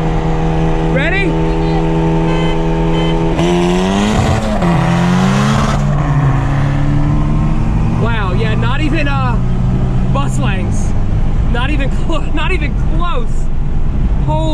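A 2018 Volkswagen GTI and a Mazda Miata racing side by side, engines revving hard with rising and falling pitch through gear changes, loud and close, with excited voices talking over the engine noise.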